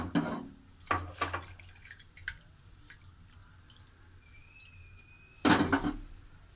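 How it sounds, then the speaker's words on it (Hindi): A cup of milk is poured into masala tea with a soft liquid splash at the start and again near the end. Quiet trickles and faint clinks fill the gap between. "अब हम इस चाय में 1 कप दूध डालेंगे।"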